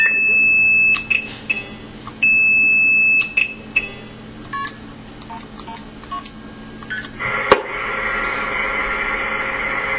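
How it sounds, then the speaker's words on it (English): Multi-frequency signaling tones dialed into a phone call: a series of short, sharp beeping tone bursts with irregular spacing, followed by a louder sustained hissing line noise near the end. "So let's actually supply some valid MF digits to that recording."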